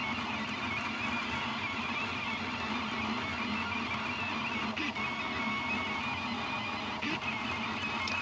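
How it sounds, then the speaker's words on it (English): A 3D printer lays down a part with sparse infill, giving a steady whirring, buzzing drone of stepper motors with small tonal shifts and a couple of faint clicks, continuous and close. "it's definitely printing it with kind of a sparse infill"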